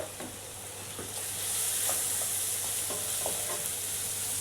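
Onion with turmeric sizzles and fries in a pan, a steady close hiss with faint scattered ticks and pops of stirring, and no voices.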